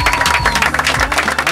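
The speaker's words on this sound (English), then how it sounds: "Give a big round of applause for Omar!" Loud, close crowd applause for magician Omar at a comedy magic show in Queens, New York, dense clapping with scattered cheers and a low hum running beneath.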